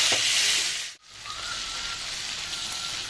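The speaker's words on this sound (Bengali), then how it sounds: "ঠিক এইভাবে কিছুক্ষণ ভেজে নেব।" Salted chicken skin fries in a pan with a close, steady hissing sizzle that briefly drops out near the start and then settles back.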